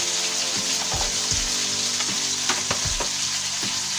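Fried lentil dumplings (bori) dropped into a pan of hot oil, a loud, dense sizzle with rapid bubbling crackle and a few knocks of the spoon, close and continuous.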